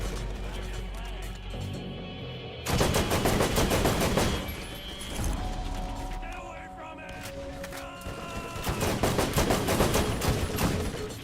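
Gunfire in the video game Borderlands, with dense rapid-fire bursts and shots layered over game music and effects. Loud stretches of shooting alternate with quieter moments, and a player talks intermittently over the action.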